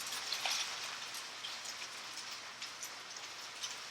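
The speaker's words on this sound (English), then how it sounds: "I'm just going to lightly saute those real quick." Food sautés in a pan with a soft, steady crackling sizzle made of dense tiny pops, fairly faint and close, with no talking.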